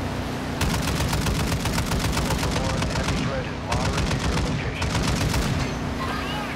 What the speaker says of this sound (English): Somebody's shooting at it.